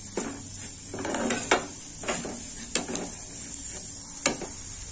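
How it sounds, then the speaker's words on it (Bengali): About 100 grams of lentils fry in a pan as moisture dries off, with a spoon scraping and clinking against the metal in irregular strokes, close up and with no talk. "ডালটা ভাজতে ভাজতে জলটা শুকিয়ে যাবে"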